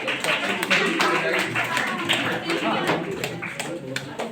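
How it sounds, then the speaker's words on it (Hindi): Crowd applause at a women's inter-college football tournament event in Begusarai, loud continuous clapping with scattered voices mixed in throughout. "तालियां चलती रहेगी"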